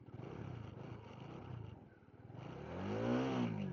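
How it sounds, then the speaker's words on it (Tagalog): A Bajaj Dominar 400 motorcycle engine with its rev limiter unlocked idles with a close, throbbing putter, dips briefly and then revs up into a rising, loud whine. "ibibirit ko ng konti yung motor"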